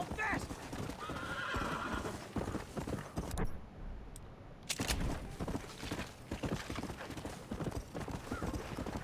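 Horse galloping in Red Dead Redemption, hooves clip-clopping in a fast, steady rhythm with a whinny and faint distant gunfire, and someone talking over it; a brief drop-out splits the sound near the middle.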